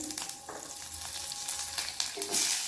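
Cumin and curry leaves fry in a spoon of oil in a hot kadai for an Indian paneer snack, giving a steady close sizzle with scattered crackles and pops throughout, no voices.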